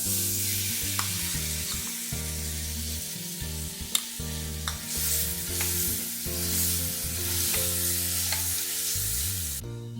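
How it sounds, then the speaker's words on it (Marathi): Dates sauté in ghee in a pan with a continuous bright sizzle and occasional stirring clinks, close up, over a low tonal background. "एक चमचा खजूर थोडं तुपामध्ये परतून घेते"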